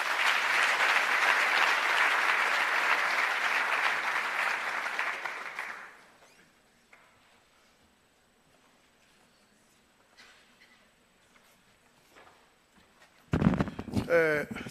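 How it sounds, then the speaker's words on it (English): Broad audience applause for the Minister at a science forum, loud and sustained for about six seconds before dying away into near silence, followed by a burst of noise at the end. "Round of applause for the Minister."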